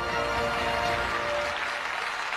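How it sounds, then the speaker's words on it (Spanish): Audience applause for departing Miss Venezuela 2022 Diana Silva, a dense, steady wash of many hands clapping that holds loud and continuous before easing slightly toward the end. "Diana Carolina Silva se lleva estos aplausos"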